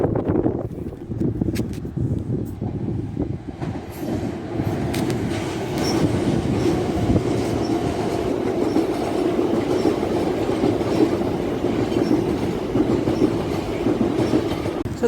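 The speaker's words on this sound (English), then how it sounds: "So, as we're at the crossing and there's one approaching," A freight train on the Chatham Docks Railway rolls past a level crossing, its wheels clattering steadily over the rails with occasional squeals, loud and close throughout the passage.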